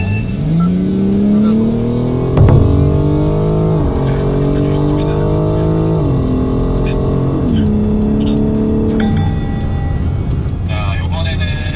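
A BMW car accelerates hard at a driving center, its engine climbing through several gear shifts in a loud, rising roar heard from inside the cabin while people talk over it.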